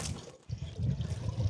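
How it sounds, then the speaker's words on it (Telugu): Water squeezed out of a wet cloth by hand, a short close trickle and splatter that drops out briefly then returns in an uneven dribbling gush. "బాగా నీళ్ళు ఎక్కువ వస్తాయి."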